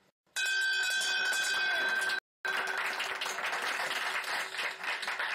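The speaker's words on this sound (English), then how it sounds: "So, as tribute to Peggy, me and Mick have had this new pub bell made" Newly made pub bell rung for the first time, a bright ringing tone sustained over a crowd's burst of applause and cheering, then clapping continuing after a brief cut.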